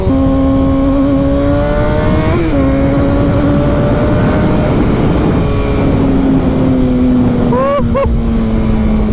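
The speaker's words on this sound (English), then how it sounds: "Man, this bike feels so good." A motorcycle rides along at cruising speed, its engine giving a loud steady drone with brief rev changes, heavy wind rumble throughout and close onboard.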